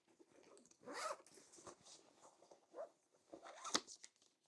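Zip pulled on the back pocket of a Coach Ethan leather men's work brief, heard as two short close rasping bursts with soft handling rustle of the leather between them.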